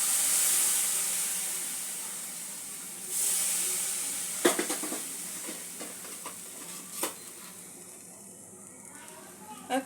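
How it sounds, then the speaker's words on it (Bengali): Besan (chickpea flour) frying in a pan for kachori sizzles loudly and hisses after a sprinkle of water, then settles into a softer crackle with intermittent stirring scrapes and clicks. "সামান্য একটু জল ছিটিয়ে দেব।"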